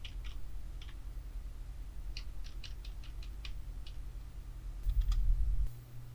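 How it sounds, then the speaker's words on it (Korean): Computer keyboard keys are pressed at a desk during video editing shortcuts, a series of light, quick clicks in short bursts, faint against a low steady hum, with a brief louder rustle near the end. "단축키로 하시려면 열기 대괄호키를 눌러서 볼륨을 낮추고 닫기 대괄호키를 눌러서 볼륨을 높일 수가 있겠습니다"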